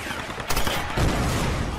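Gunfire in the video game Tomb Raider, a quick burst of several loud shots followed by a second volley about half a second later, all set against the game's background noise.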